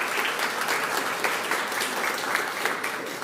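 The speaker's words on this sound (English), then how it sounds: "Can we have a big round of applause for getting this far?" An audience at a live-streamed challenge grand final applauds in a dense, steady wash of clapping that holds at an even, fairly loud level throughout, with no voices standing out.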